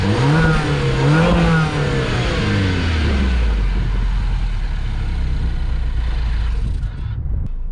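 Turbocharged 1.6-liter four-cylinder in a 2015 MINI Countryman S ALL4 with a six-speed automatic pulls hard, engine note climbing through a gear change then settling into a lower drone before fading out at the end.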